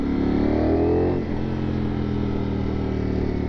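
A Ducati Streetfighter V4S motorcycle engine revs up loud and close, a rising harmonic whine that drops and settles into a steady low rumble, held at fairly low revs.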